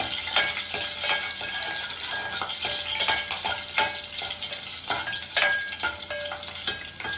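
A sprig of curry leaves and two green chillies fry in hot oil in a pan, giving a continuous close sizzle with intermittent spatters and crackling pops.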